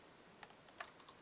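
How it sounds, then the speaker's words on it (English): Typing numbers on a computer keyboard during a 3D silhouette base build: a few sparse, quiet key clicks, with a small cluster of sharp taps near the end, heard alone. "You keep typing numbers until you get a decent enough."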